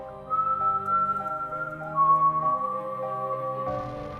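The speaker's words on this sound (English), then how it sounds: "but they all heard the whistling." Slow, high-pitched whistling of a drawn-out melody, notes held long and sliding gently between pitches, clear and alone with no talking.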